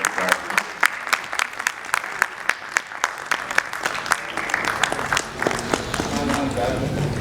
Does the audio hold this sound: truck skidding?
no